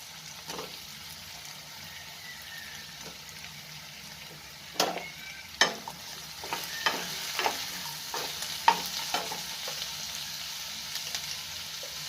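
Sliced bell peppers sizzle steadily in a pan for an aloo and capsicum dry curry, with occasional sharp scrapes and clinks of a stirring spoon against the pan.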